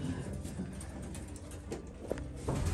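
Pigeons in a breeding loft give soft, low cooing, faint and close, over a busy shuffling background with a few small taps.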